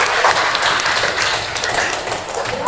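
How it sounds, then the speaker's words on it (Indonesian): Classroom applause for a student named Sahsa during a teaching session: a dense, steady patter of many hands clapping at close range for about three seconds, with no voices over it. "tepuk tangan dulu untuk Mbak Sahsa"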